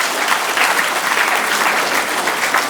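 A crowd at a student award ceremony applauds loudly for an ICSE student scoring 95%, many hands clapping in a dense, steady roar that holds at full strength from start to finish.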